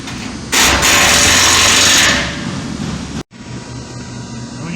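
A power tool drives the ladder bracing bolts tight on a mini bin, a loud sustained whirring rasp for about two seconds, then a lower grinding tail that cuts off abruptly before a duller rumble resumes, close and without talking.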